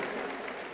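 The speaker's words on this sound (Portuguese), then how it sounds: "Aplauda o seu irmão que está do seu lado." Church congregation clapping together during a worship service, a dense steady wash of many hands applauding evenly throughout, fairly faint with no voices standing out.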